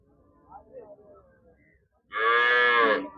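A single loud, close cow moo bellows at a cattle market in Melapalayam, following a short stretch of quiet murmuring and background noise.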